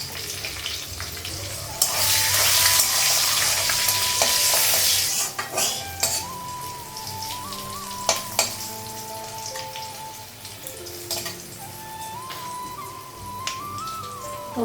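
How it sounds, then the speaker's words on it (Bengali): Panch phoron spices hit hot oil in a home kitchen, giving a loud burst of sputtering and sizzling that settles into steady frying, with a utensil stirring and clinking against the pan and a faint whistle-like tone. "পাঁচফোড়ন দিই, বাবা ফুটছে।"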